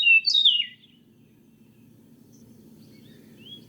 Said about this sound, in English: Flute-like, I do love you.